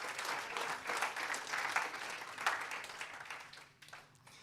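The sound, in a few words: applause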